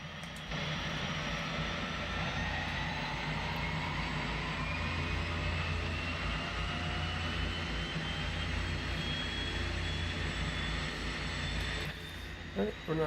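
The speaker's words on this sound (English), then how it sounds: "we can start the right engine." Right-side aircraft engine spinning up in the X-Plane 10 flight simulator, a steady loud roar with low rumble and a slowly rising whine, continuous for about eleven seconds before cutting off abruptly.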